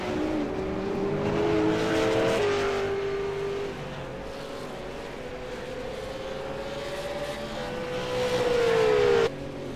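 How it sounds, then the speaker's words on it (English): V8 Supercars race cars on the Montreal circuit, a steady engine drone shifting pitch as cars pass at a distance, loud and continuous with gear changes and a brief surge near the end. "we do have a few more cars heading down pit road right now"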